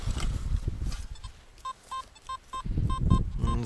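A metal detector sounds during a weekend coin-hunting dig, giving four or five short, clear beeps in the middle, with rustling and scraping noise before and after them.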